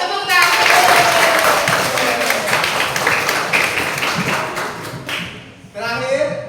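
Children clap their hands together in a burst of rapid, close claps and taps that thins out and stops near the end, with voices talking over it.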